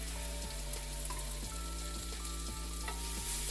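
Onions fry in avocado oil and sesame in a pan, making an even, steady hiss that runs unbroken beneath a low, droning hum.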